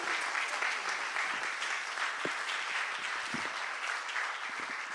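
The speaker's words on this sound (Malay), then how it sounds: "Berikan tepukan gemuruh sekali lagi untuk Wahana Deksu." An audience at the Anugerah Persuratan 2023 literary awards ceremony gives a steady round of applause, a dense wash of many hands clapping with no talk over it.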